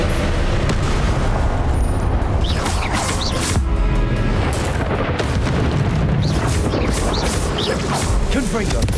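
A Confringo fire spell explodes in Hogwarts Legacy on Switch, with loud booms and blasts repeating through a dense, continuous mix of game sound while a voice talks over it.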